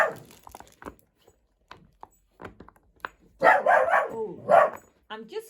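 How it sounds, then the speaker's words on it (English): A dog barks and yips in several short, loud bursts near the end, over quiet fidget-toy sounds and soft speech heard earlier. "Oh dear, that doggy."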